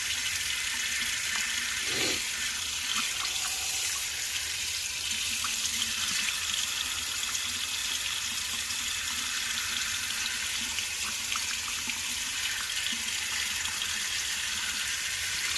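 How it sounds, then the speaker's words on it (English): Hot tap water runs steadily over a plastic glasses frame, a continuous close rushing hiss with a brief bump of handling near the start; no one speaks. "You want to let the water like good and hot, but don't leave it underneath it too long."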